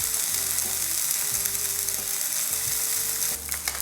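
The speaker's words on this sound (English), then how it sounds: "fry the luncheon meat till it's crispy on both sides" Slices of luncheon meat (SPAM) fry in a pan without added oil, making a continuous close crackling sizzle, with a low mechanical hum underneath and no talking.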